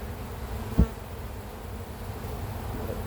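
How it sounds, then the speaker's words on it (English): Honeybees buzz steadily at an open beehive, a close, continuous hum with one brief sharp knock partway through. "Bee in my hand."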